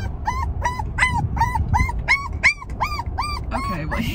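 A small hypoallergenic-coated dog whimpers and cries in a steady series of about a dozen high, rising-falling whines, evenly spaced and close, over low background rumble.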